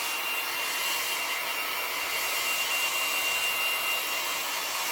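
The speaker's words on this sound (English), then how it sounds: "And this is just a little hair dryer." A small hair dryer blows with a steady, airy hiss that holds constant the whole time, close by and unbroken.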